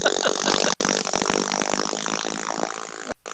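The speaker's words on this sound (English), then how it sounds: "there's some motorcycle coming by, so I apologize for the noise here" A motorcycle passes close by outside during a live-streamed talk, its loud buzzing engine dominating the sound with a rough, sputtering rumble that holds for about three seconds and cuts out briefly twice.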